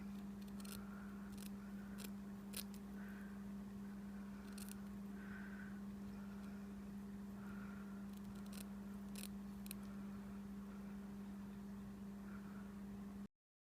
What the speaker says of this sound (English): we're just going to take our snips and cut this joining threads in here